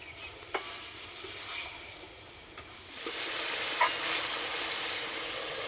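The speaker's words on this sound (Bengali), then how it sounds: "চাপাটা খুলে একটু নেড়ে দেবো।" Chicken sizzling in a pan as the lid is lifted and the meat is stirred, a steady hiss that swells louder partway through, with a few sharp clinks and scrapes of the spoon.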